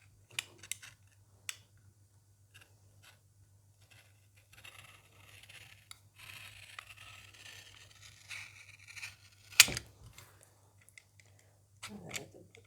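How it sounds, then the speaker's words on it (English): A knife cuts open the side of a freshly set tallow and lard soap mold, giving sparse scratchy scrapes and clicks with a louder snap near the end over a steady low hum. "I'm just going to cut it open on the side."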